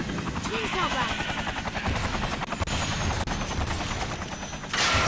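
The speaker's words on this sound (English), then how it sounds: "there's a helicopter right here that you have to shoot" In the Lollipop Chainsaw video game, a helicopter drones loudly overhead while rapid gunfire rattles continuously at it, in a dense, close, unbroken barrage.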